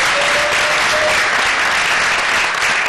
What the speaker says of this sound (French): Applaudissez très fort pour Nescafé